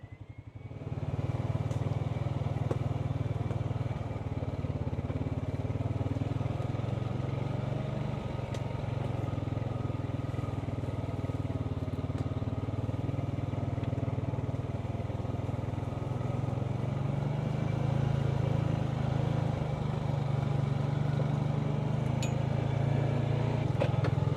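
A 2025 Honda Pioneer 520 utility off-road vehicle driving, its engine a steady low droning hum held at a constant level throughout with no pauses, heard from inside or close by.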